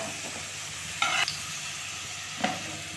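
Brinjal sizzles steadily in hot oil in a pan, a constant broadband hiss broken by two brief scraping stir sounds, close and alone with no talking.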